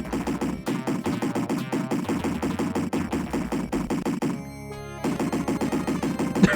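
Rapid automatic gunfire rattles down a hallway in a video game shooter, long sustained bursts with a brief pause before firing resumes, loud and close.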